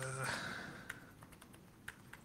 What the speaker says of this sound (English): typing is so hard.